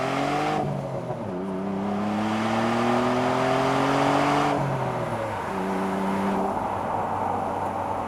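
A 1995 Mitsubishi 3000GT VR-4 Spyder accelerates through the gears, its engine note climbing in steady sweeps with shift breaks between, loud and close from inside the car with no talking.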